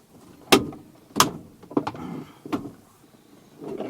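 Several sharp plastic pops and snaps ring out one after another as pop clips release while a Nissan Serena sliding door panel is pulled off, close by, with rustling and scraping between them and no talking.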